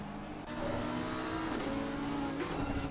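Race car engines roaring at Laguna Seca in a racing video game, a loud close drone of high revs shifting pitch, with a brief tire squeal as cars accelerate.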